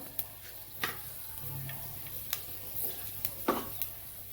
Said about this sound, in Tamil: ஆயில் சூடான உடனே கொஞ்சம் பெருஞ்சீரகம், வெந்தயம்,